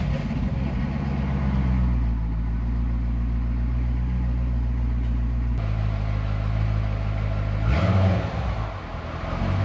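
A Buick car engine runs steadily near and loud, with a rumbling low drone as it starts and pulls away, rising briefly in a rev toward the end.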